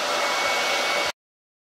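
Hair dryer blowing on a freshly painted board, a loud steady whooshing hiss close by for about a second before cutting off abruptly to silence.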